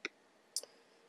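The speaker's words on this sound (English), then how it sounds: "So I'm going to click at this point" Computer mouse clicks on a PC, two sharp isolated clicks about half a second apart, close and crisp against a quiet room.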